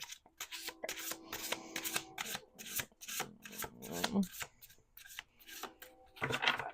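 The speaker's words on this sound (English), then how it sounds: "2 more shuffles" Deck of cards being shuffled repeatedly, rapid riffling and rubbing bursts with brief pauses, close and soft, with someone talking between shuffles.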